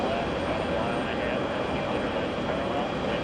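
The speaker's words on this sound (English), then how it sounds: "Brussels Airlines, right in front of us." A Brussels Airlines airliner taxis on Taxiway Yankee at John F. Kennedy International, its engines giving a steady, even roar close by that holds level throughout, with no change in pitch or loudness.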